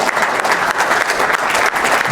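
Audience applause for a double Olympic judo champion at an interview event, dense steady clapping filling the room without pause and no talk over it.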